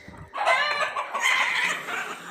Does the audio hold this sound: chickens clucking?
yes